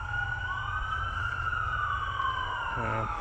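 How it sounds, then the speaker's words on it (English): An ambulance siren wailing steadily on the highway, its rising and falling tone sustained over low road rumble and fairly close, with no talking. "And we got the ambulance coming."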